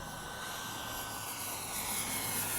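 An Avios Super Tucano radio-controlled airplane with half flaps flies into a light headwind on its maiden flight, producing a steady, buzzing propeller drone that swells slightly as it passes, with no voices.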